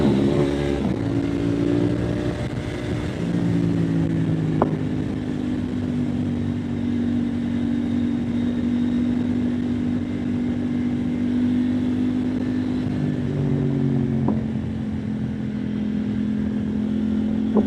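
A KTM Duke 890R motorcycle engine drones loud and close, holding a steady pitch with a couple of brief rises as it accelerates along a backroad, continuous with no talk.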